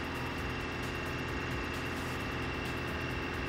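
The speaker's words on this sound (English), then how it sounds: "Oh, listen to that engine too." Bus engine in the BeamNG.Drive driving game running on automatic, a steady low drone with faint pulsing, quiet and continuous with no speech.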